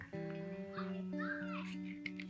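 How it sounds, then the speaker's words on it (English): Children's voices chattering and babbling next door in the distance, faint and steady. "I'm sure you can hear the children playing next door."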